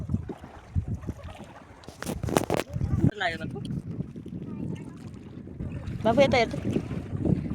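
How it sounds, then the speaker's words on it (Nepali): A boat crosses a blue-water river at Prang Ghat, with a low rumbling wash of engine and water under gusty wind noise, while people talk nearby over it. "यता नाउ चलाएर जाँदैछन् मान्छेहरू खेल्नुको लागि।"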